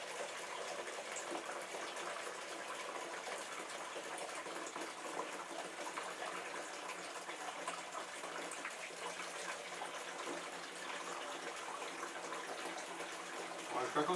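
Water runs steadily from a tap, a soft, continuous gushing that stays even throughout with no break.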